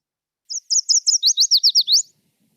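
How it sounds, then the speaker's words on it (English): A yellow warbler sings a bright, sweet song close by: a short string of clear high notes that speeds into a run of rapid slurred phrases, lasting about a second and a half, with no voices. "few combine brilliant bright color and easy viewing as the yellow warbler, and that's who you're looking at right here"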